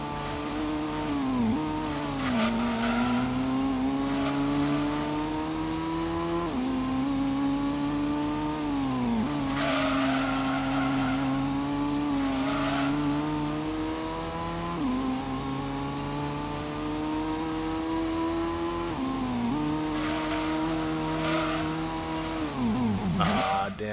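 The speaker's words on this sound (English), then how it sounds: "having to fight it when they're braking" A race car in a 1998-era racing video game roars with revving engine pitch that dips repeatedly under braking, with recurring tire squeal and scrubbing across a continuous loud run.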